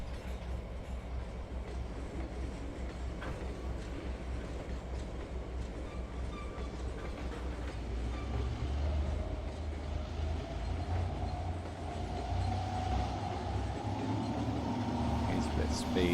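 A train runs on rails in the Trainz railway simulator, a steady low rolling rumble with faint rhythmic wheel clatter and a rising whine near the end, continuous and fairly even throughout.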